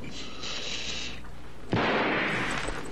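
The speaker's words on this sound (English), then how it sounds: "That sounded like a gunshot" A single gunshot from the 1982 horror film The Thing: one sharp, loud blast that cuts in midway and leaves a noisy, lingering rumble after a stretch of hissy background ambience.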